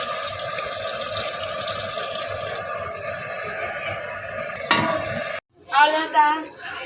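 Water is poured and stirred into a large pot of mutton biryani, a continuous close sizzling hiss with scraping, ending in a brief pause and a sharper splash of stirring.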